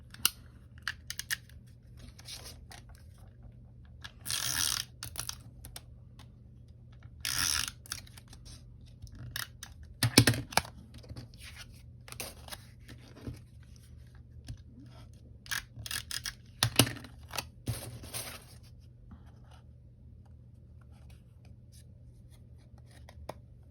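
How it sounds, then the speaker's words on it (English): A Tombow tape runner laying adhesive tape during papercraft, heard as faint, close scratchy rolling bursts and light clicks spread through a quiet room. "I can use my Tombow tape runner for that."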